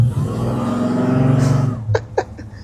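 A frame-off restored 1956 Chevrolet 210 custom coupe with a 7.5 liter V8 drives along with a low, steady engine drone, followed by a few sharp knocks near the end.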